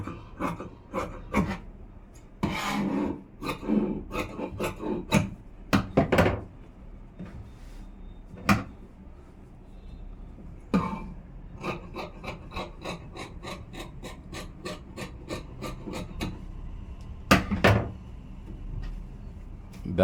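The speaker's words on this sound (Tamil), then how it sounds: "இப்போ நான் கட் பண்ணிடுறேன்." Scissors snip through blouse fabric on a cutting surface, a close series of crisp cuts in irregular bursts, with quieter sliding and handling between them.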